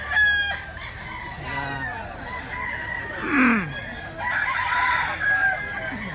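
Fighting roosters for sale at a grotto crow repeatedly, several drawn-out calls rising and falling one after another over a steady murmur of surroundings, with clucking between.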